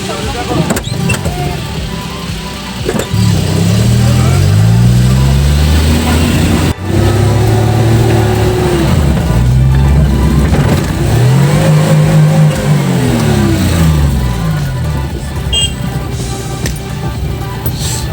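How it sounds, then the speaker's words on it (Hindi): A car engine revs and strains in repeated surges while reversing on a forest road in Udaipur, Tripura, loud and close, with people talking over it. "फिर पीछे जाना पड़ रहा है गाड़ी।"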